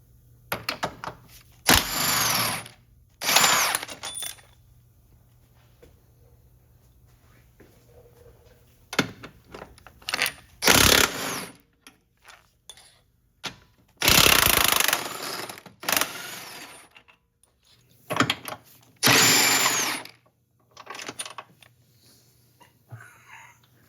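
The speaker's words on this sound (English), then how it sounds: "now we're going to remove the subframe bolts" Power tool removing 18 mm subframe bolts from a BMW E60 M5, heard as several loud, separate bursts of a few seconds each with quiet gaps between them, close by.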